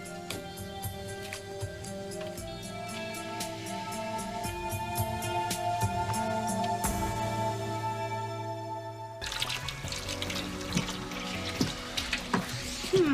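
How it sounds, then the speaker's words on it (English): Tap water gushes steadily into a bathtub being filled in a hotel room, heard under a soft musical score that shifts partway through. "I'm gonna draw a bath"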